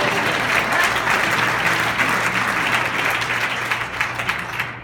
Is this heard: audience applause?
yes